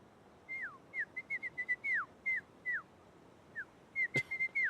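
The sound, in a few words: whistling imitated by a storyteller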